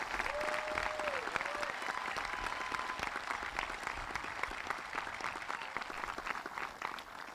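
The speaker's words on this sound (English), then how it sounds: "Let's have a round of applause, please, for these young men and all of our graduates" Sustained applause from a high school graduation audience honoring the graduates, dense steady clapping throughout with a faint whistle or tone early on and crowd murmur underneath.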